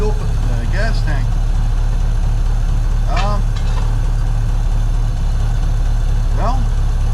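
A 1953 Buick engine idles steadily on its own fuel tank, a low, even rumble that carries through the whole stretch while someone talks briefly over it.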